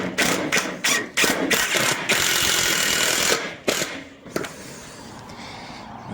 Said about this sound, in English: these screws are a little bit thicker than the nails were, so they'll definitely fill up that hole.